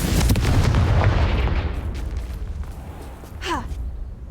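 A Confringo fire spell explodes in the Hogwarts Legacy video game: a loud, close blast bursts at once and its roar slowly fades over several seconds, with a brief whooshing streak near the end.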